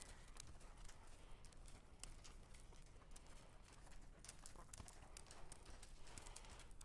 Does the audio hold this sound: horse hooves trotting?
yes